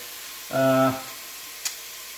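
Garlic and vegetables cook in rapeseed oil in a pan, giving off a soft, steady sizzle throughout. A brief voice sounds over it early on, and a small tap comes near the end.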